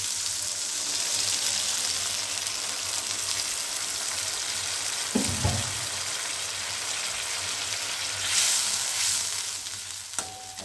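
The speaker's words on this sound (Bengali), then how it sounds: "এই মশলা ধোয়া জলটা দিচ্ছি।" Spice-rinse water poured into a pan of Bengali fish head curry sets off a steady hiss of frying and sizzling, with a brief louder splash and bubbling near the middle and a small clink toward the end.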